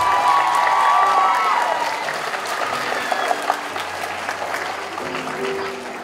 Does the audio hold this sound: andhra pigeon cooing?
no